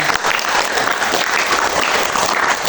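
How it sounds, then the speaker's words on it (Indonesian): A ninth-grade classroom breaks into applause, a dense, even burst of many hands clapping close by that stays steady for the whole stretch. "Tepuk tangan untuk semuanya."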